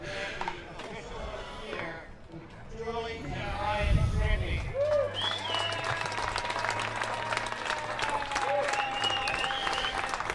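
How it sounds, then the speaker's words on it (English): Crowd applause at an award presentation during a provincial sports championship gold medal match, steady scattered clapping heard at a distance under a commentator's voice. "if you can hear the applause in the background, Julie and Brian Scribney being awarded"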